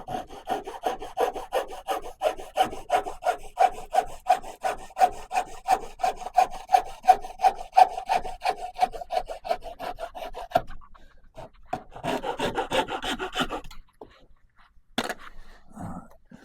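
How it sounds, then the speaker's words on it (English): An old hacksaw blade saws through wood in fast, steady back-and-forth strokes, rasping close up for about ten seconds, then breaks into a few scattered scrapes and knocks before it stops. "Let's get my old hacksaw blade here and finish it off."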